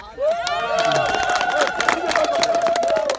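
A crowd of Tanzanian rice farmers claps for a woman farmer, a lively burst of many hands close by, mixed with cheering voices and a loud sustained whistle-like tone over the applause.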